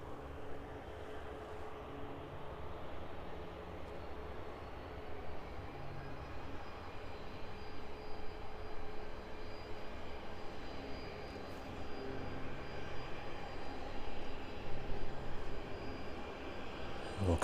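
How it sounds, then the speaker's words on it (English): A jet airliner taxis at East Midlands Airport in the evening before departing for Dublin, a faint, steady engine drone heard from a distance that builds slightly as it turns toward the listener. "There it goes then, turning towards us now. Aircraft making its way out to Dublin."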